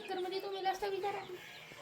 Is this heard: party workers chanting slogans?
no